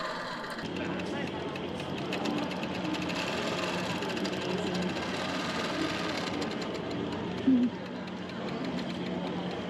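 Long arm quilting sewing machine at a sewing show booth, its motor humming steadily and close throughout, with voices of people chatting in the background.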